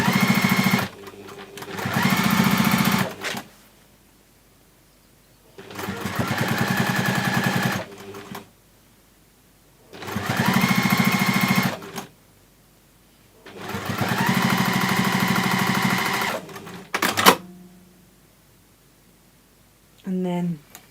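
Domestic sewing machine topstitching about 1/8 inch from the edge of a fabric gift bag, running in four steady bursts of a few seconds each with short pauses between, close and clear with no talking.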